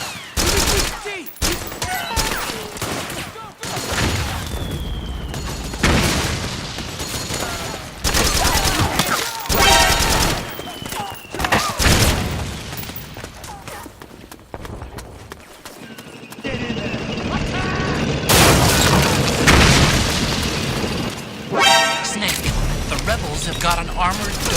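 Battle sounds from Metal Gear Solid 4: Guns of the Patriots: rapid bursts of gunfire and heavy blasts come in waves, loud and dense, mixed with shouting voices and other game noise.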